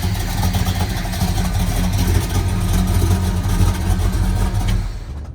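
A Ford 429 big block V8 with Holley Sniper EFI runs close and loud with a lumpy, uneven low rumble, revving a little and idling rough for several seconds before cutting off.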